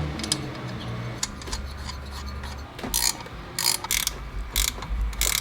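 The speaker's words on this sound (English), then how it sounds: "I'm just gonna torque them down really tight with my wrenches" Wrenches tightening the fan nuts onto a car water pump, rapid metallic ratcheting clicks in repeated bursts over a low mechanical background, close and fairly loud.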